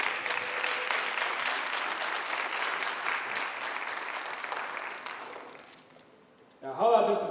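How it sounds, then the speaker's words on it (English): An audience at a high school Black History program applauds the performers, broad sustained clapping that fades out over several seconds before a voice speaks near the end. "Let's give them a round of applause."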